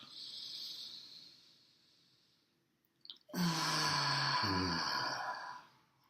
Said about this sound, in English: So take another slow, deep breath with us right now and notice how it feels.